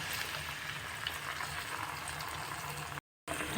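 Onions frying in oil in a pan, giving a steady, dense sizzle that runs evenly throughout with no talk, then cuts out briefly for a moment near the end.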